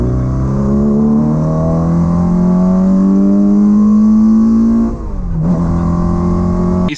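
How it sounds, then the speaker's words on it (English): A 1965 Mini Cooper engine revs hard toward its high-rpm limit, a loud, close, sustained scream with rising pitch that dips briefly near the end before climbing again. "That is screaming for a mini engine"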